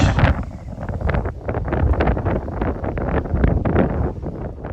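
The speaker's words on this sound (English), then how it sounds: "that wind was not cooperating at all. It makes for some bad audio" Strong gusts of wind buffet a microphone outdoors in a garden, producing loud, uneven low rumbles and bursts of blustery noise that surge and fade repeatedly with no voices.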